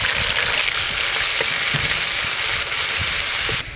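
Ginger and green chili paste hits hot mustard oil in a pan and sizzles loudly and steadily, with occasional soft stirring taps before the hiss drops away at the end.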